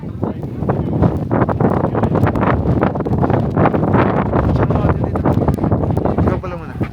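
Strong outdoor wind in Banff buffeting the microphone with a loud, constant rumbling roar, while people talk over it.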